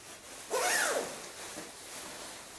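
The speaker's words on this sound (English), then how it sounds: "And then the jacket itself zip." A single quick zip pull fastens the outer zip on a BMW Rallye Suit motorcycle jacket, a bright rising rasp that peaks early and trails off into quiet room tone.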